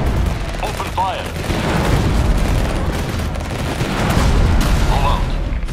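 Units opening fire in Tempest Rising, a rattle of rifle and machine-gun volleys with dull booms, mixed with short clipped unit voice acknowledgements and chirps, fairly loud and continuous.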